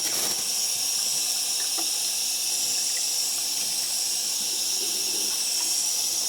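Tap water pours steadily over a hedgehog's quills during a bath, a constant close hiss of running water with faint splashes and no talk.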